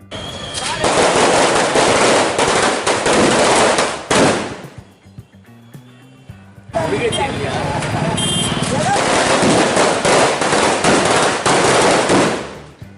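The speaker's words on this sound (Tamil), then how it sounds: "பாமக சார்பில் பட்டாசு வெடித்து இனிப்புகள் வழங்கி கொண்டாடப்பட்டது" Firecrackers bursting in rapid, crackling strings at a political party celebration near a bus stand in Tiruvannamalai, loud and close, with a brief pause before a second long barrage.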